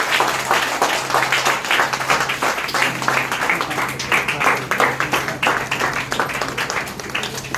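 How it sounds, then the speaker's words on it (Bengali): An audience claps continuously at a Modicare gathering celebrating cancer survivor and millionaire Rubi Paul. The clapping is dense, steady and close, with a faint low hum underneath. "হাততালি থামছে কেন?"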